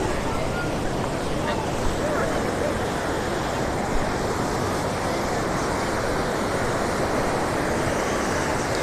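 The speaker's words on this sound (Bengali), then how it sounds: "ওইদিকে দেখতে পাচ্ছেন কি বিশাল বড় বড় ঢেউ" Large ocean waves break on the beach at Cox's Bazar, a continuous loud roar of surf mixed with wind buffeting the microphone, with no clear individual breaks.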